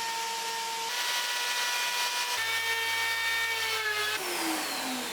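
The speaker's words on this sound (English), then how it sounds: "it was time to round off every corner of the cab with my router" A steady, high-pitched whine of a router rounding the wooden corners of a guitar cabinet runs throughout, its pitch shifting between passes and dropping near the end.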